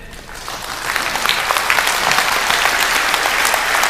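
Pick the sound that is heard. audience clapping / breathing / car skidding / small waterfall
audience clapping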